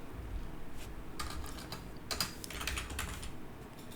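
Computer keyboard typing in a short burst of quiet keystrokes while setting up procedural content generation in Unreal Engine 5, with clustered clicks over a low steady background hum and no voices.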